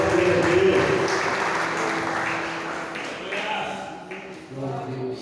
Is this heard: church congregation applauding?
yes